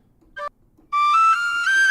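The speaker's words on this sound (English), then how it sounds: "Oh, they just call it whistle in D. So this is high whistle." A high D tin whistle sounds a brief high note, pauses, then plays a bright sustained phrase of a few clear pitches, alone and close.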